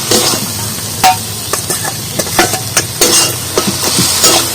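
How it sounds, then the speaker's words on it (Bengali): Taro leaves stirred into fried spices in a pan, a low sizzle under repeated sharp scraping and knocking strokes of a spatula at an irregular pace, close and fairly loud. "আর এইভাবে কচুটা মশলার মধ্যে মাখিয়ে নেব আর খানিকক্ষণ ধরে এইভাবে অনবরত নাড়বো"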